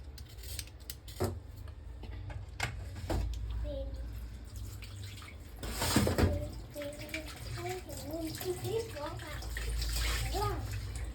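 Potatoes being washed under a running kitchen tap, a steady close rush of water with splashes and clatter as they are handled, while a voice speaks briefly in the second half.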